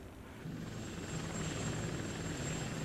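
An Apache military attack helicopter flies steadily nearby, its continuous engine and rotor drone building slightly in loudness over nearly three seconds, with a faint high whine on top and no voices.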